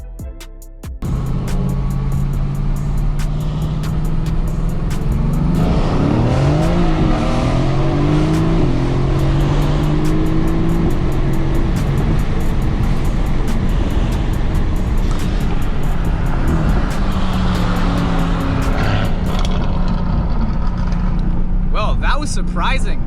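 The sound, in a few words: Mercedes-AMG GT S and C63 S drag racing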